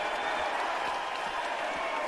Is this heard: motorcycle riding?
no